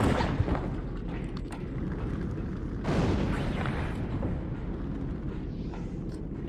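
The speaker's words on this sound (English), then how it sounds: "there should have been a third explosion there" Explosions go off in Halo 1 on the Pillar of Autumn level. A heavy boom lands at the start and a second blast strikes partway through, each trailing into a rumbling decay.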